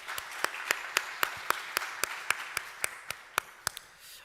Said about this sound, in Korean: 우리 감사의 박수도 한번 하겠습니다.